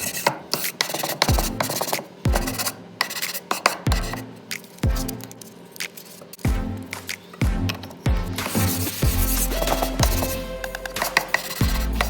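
Wood on a pine and walnut toolbox is sanded by hand with 180 and 320 grit sandpaper, producing close, loud rasping strokes in a steady back-and-forth rhythm.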